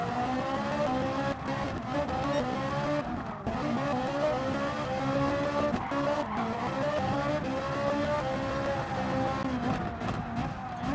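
Race car engine roaring steadily in Gran Turismo Sport, harmonic revs rising and falling with tire skidding and squeal, loud and continuous throughout with no talk.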